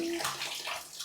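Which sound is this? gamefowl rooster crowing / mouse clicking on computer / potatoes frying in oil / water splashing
water splashing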